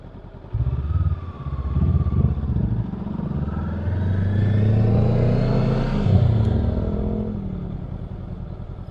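A 2023 Honda Rebel 500 motorcycle engine while riding, a close, loud engine drone that pulls and rises in pitch as it accelerates, with wind rush and a brief lull between gears.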